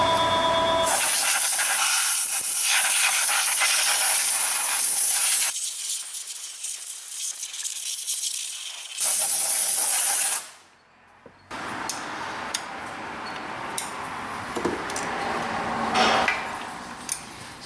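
Compressed air blasts debris out of a Chevy Corvette engine bay in loud, close hissing bursts, a long one of about five seconds, then a short one, then quieter handling noises with small knocks.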